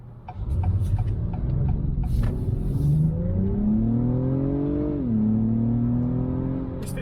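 A 2021 Acura TLX Type S in normal mode accelerates hard from inside the cabin, its engine note rising smoothly through the revs. A short dip marks a gear change before the drone climbs again, loud and steady with no talking.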